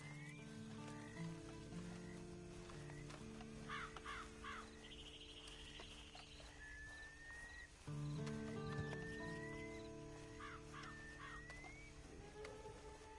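A horse in the video game Red Dead Redemption 2 snorts and briefly whinnies over a busy outdoor ambience of cawing crows, croaking frogs and steady low hum.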